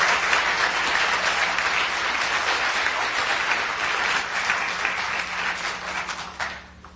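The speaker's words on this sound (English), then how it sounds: "Would everybody give Sali a welcoming round of applause?" A university lecture audience applauds to welcome a guest speaker, a dense, steady round of clapping that fills the room for about six seconds before thinning out and fading at the end.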